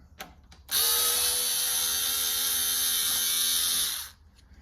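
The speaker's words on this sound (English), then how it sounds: "screwdriver and take out the screw" A small power screwdriver backs a screw out of a loose doorknob: one steady, loud whirring burst lasting about three seconds after a couple of faint clicks, with no talking.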